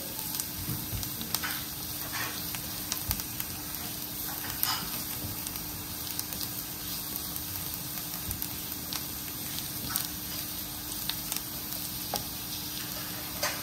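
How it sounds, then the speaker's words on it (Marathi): Garlic frying in a pan for quick fried rice, a steady close sizzle with scattered small crackles and pops running throughout, no voices. "लसूण थोडा फ्राय करून घेते मी"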